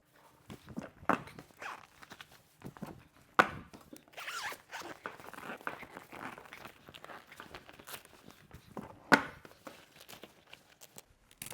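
Dry velcro fasteners on a large 270-degree car awning on a Crawler TRC 458 vehicle are torn open, a series of close, scratchy ripping pulls with rustling fabric and footsteps between them.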